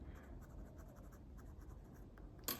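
Fountain pen with a super fine nib, inked with Diamine Wagner green, scratching steadily across paper in a quiet, close continuous rasp, ending with a brief sharper scrape.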